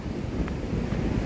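Atlantic Ocean surf and wind on a Florida beach near Cape Canaveral, a continuous roar of breaking waves and blustery wind buffeting the microphone, with no voices.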